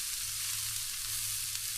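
Onions sizzle and fry on a barbecue hotplate at a boat ramp, a close, steady hiss of frying with no break and nobody talking.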